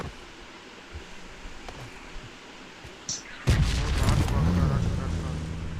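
A sniper rifle fires in a video game bot match: a single sharp, loud shot cracks out midway through after a quiet stretch, followed by dense noisy game sound with someone talking over it.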